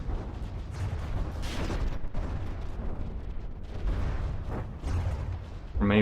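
Bombs in the video game From the Depths burst in a series of deep, rumbling booms that roll into one another, loud and fairly close, with a sharper blast at the end.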